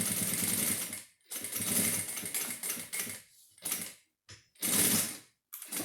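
A sewing machine stitches a zipper onto a pencil case, running in several bursts of rapid mechanical whirring and clatter separated by short pauses, close and loud.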